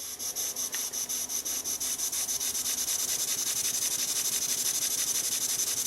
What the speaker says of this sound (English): We'll put some compressed air on and see what it runs like.